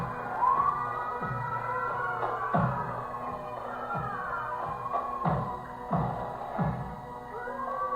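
An ambulance siren wails, rising and falling at a distance during an Independence Day parade in Peekskill, with dull low thumps and a steady hum underneath.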